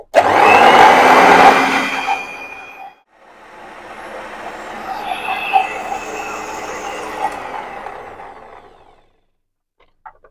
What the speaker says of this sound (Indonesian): Oke, kita mixer sekitar 1 menit lagi baru selesai